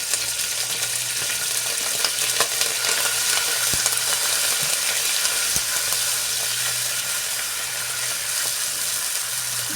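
Ginger garlic paste fries loudly in hot oil, a dense, steady sizzling hiss with scattered pops that continues close and alone throughout.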